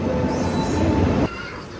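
A passenger train rolls into a railway station with a loud, close, rushing rumble and metallic rail noise. The sound cuts off abruptly to a quieter hum near the end of the short burst.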